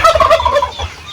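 Turkeys on a Philippine poultry farm gobble in a loud, close, rippling burst that runs through most of the second, then trails off into quieter fowl calls, with no voices.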